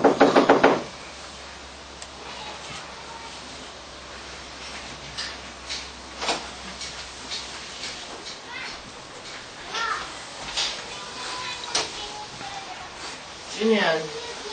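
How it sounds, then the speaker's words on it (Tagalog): Knocking on a door, a burst of raps at the very start followed by a few sparse, sharp knocks later on, with quiet room noise between them. "May kumakatok."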